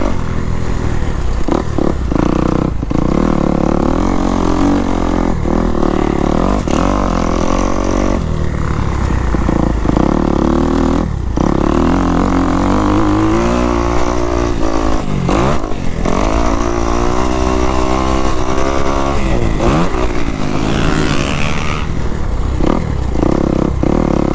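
A motocross motorcycle runs a sight lap at the Rio Bravo MX track in Houston, the engine rising and falling through repeated revs and gear changes, loud and close, with the rider's machine dominating throughout.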